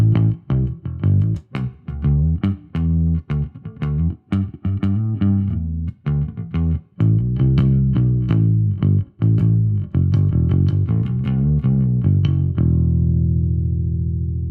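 A fretless bass with flatwound strings plays a run of plucked notes with a warm, rounded tone and some effects coloring, ending on a sustained held note.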